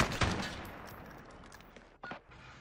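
Gunfire in a video game, with a loud burst of shots at the start that decays away, followed by another short crack of shots near the end, without talk.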